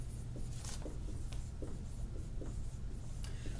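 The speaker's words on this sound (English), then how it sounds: "I'm going to type up some notes on what I'm writing on the board right now" Marker or chalk writing on a classroom board during a related rates math lesson, with repeated short scratchy strokes in an uneven rhythm over a steady low room hum.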